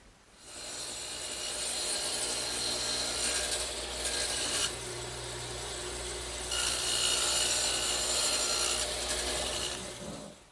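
A small back saw cutting wood tenons by hand, a close, continuous rasping of strokes with brief pauses between passes and no talking.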